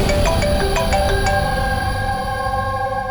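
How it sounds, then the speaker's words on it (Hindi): A mobile phone rings in a crime-drama scene with a short repeating melodic tone pattern over steady background music, and no talk is heard. "सर, पंकज का फोन था,"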